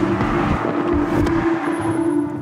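A 670 hp sports car being driven: a loud, steady engine drone with a brief rise in intensity, heard from inside the car with no talking.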